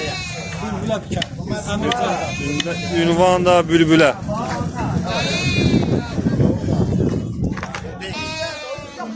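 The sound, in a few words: sheep bleating at a livestock market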